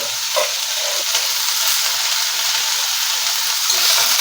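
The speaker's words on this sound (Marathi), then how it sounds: "त्याच्यात आपण धुवून निवडून चिरून घेतलेली ही मेथी घालूया।" Chopped fenugreek leaves drop into onions frying in a pan for a potato and methi bhaji. A loud, close, steady sizzle runs throughout with a faint stir at the start.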